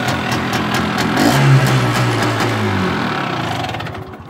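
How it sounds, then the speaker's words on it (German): A Hercules K 125 moped, started with one kick, idles with a low, even engine putter, close and loud, swelling slightly before settling and fading toward the end. "Läuft sehr schön im Standgas."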